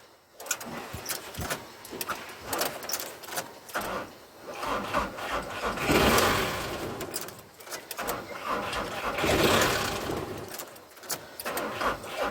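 A VW T5 van engine cranks slowly and struggles to start, a faint labored churning that rises and falls in two long swells with small clicks, heard from close by.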